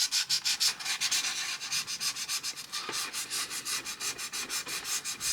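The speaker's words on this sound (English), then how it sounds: "just go around and just sand everywhere really" Sanding a plastic 1/16 scale M4A1 medium tank model kit by hand, a close, steady run of rapid rhythmic scratchy strokes back and forth, with no talking.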